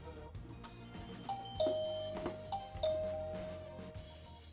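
A video doorbell chime rings twice, clear two-tone electronic dings close by, each note sustained and fading, with faint handling noise around them.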